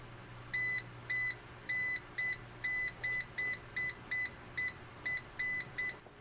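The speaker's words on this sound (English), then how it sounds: "Long beep." A Zoyi ZT XR1 multimeter beeps over and over in its continuity test, a run of short, clean tones in a steady rhythm against a faint hum, all close by.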